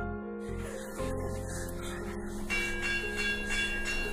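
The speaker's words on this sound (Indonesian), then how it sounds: "Hardo, Dipo, dan Kartiman mendengar sebuah lonceng yang menandakan prajurit Nippon akan datang." A bell rings with sustained, resonant tones, struck again partway through and layered over a low steady hum.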